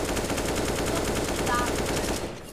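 Sustained rapid machine gun fire in Counter-Strike: a dense, continuous rattle of close, loud shots at a steady fast rhythm, tapering off at the end.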